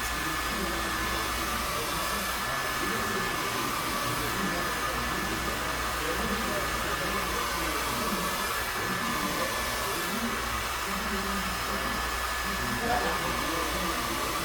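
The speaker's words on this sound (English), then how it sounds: "when I'm blow drying, I'm picking up the hair and I'm taking the blow dryer, put it directly on the hair" A blow dryer runs steadily through hair lifted with a vent brush, a loud, constant close-up whir with no break, and faint voices underneath, during a cosmetology board procedure.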